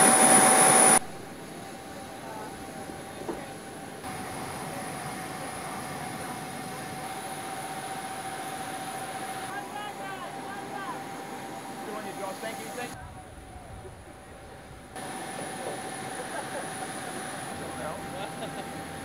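A Bonza airliner taxis toward runway 31 on its 2023 first flight, a steady engine hum with a faint whine heard from inside, while voices talk over the radio.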